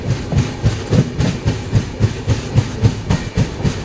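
The 19260 Kochuveli Express between Bhavnagar and Ahmedabad rolls along the rails, its wheels beating out a steady, regular clickety-clack close by, with no voices.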